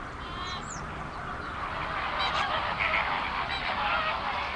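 A flock of flamingos calls at a salt lake, a steady chorus of nasal, goose-like honks and chatter rising and falling over one another at moderate volume.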